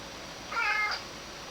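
A single short cat meow rises out of a quiet room background, fairly close and clear, lasting under half a second.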